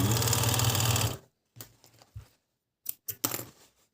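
An Agat DonLock54D-6 sewing machine runs a steady, loud burst of stitching through thick folded fabric for about a second, followed by quieter scattered clicks and short mechanical taps after it stops.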